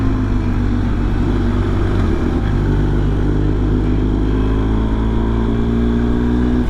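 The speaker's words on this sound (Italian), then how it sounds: "Sentite che spettacolo, il rombo delle moto che rimbomba." Motorcycle engines drone loudly and steadily on the Vršič mountain pass road in Slovenia, with overlapping engine tones that shift in pitch and hold a constant rumble throughout.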